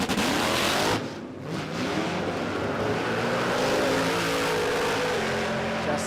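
A turbocharged 540 cubic inch drag car on rear slicks spins its tyres with a loud, sustained roar that dips briefly near the start, then holds steady and close.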